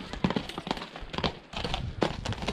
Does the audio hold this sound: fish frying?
no